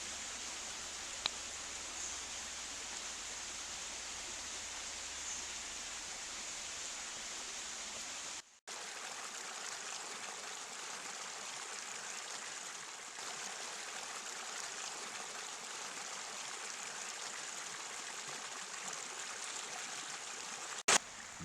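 Flowing water of the river Plessa in Altenburger Land: a steady, even rush of water that is faint and continuous, broken only by a brief dropout partway through.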